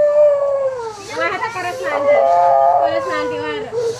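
A dog howls and whimpers in long, wavering cries that rise and fall, loud and close, with a slight break near the middle.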